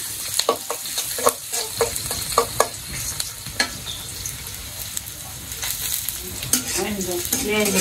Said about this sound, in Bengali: এই যে তেল গরম হয়ে গেছে, পেঁয়াজ দিয়ে দিলাম তেলের মধ্যে।